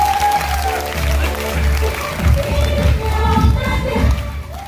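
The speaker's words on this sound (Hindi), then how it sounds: "सारे लोगों के लिए एक बार जोरदार तालियां" Audience at a seminar applauding, a steady loud wash of clapping that runs through the whole stretch, with a crowd murmuring underneath.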